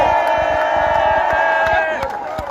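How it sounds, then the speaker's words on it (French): A loud crowd at a political campaign rally in Europe roars and cheers continuously, with a rapid patter of clapping running underneath throughout. "Monsieur Massoma, que je vais demander d'applaudir très fort."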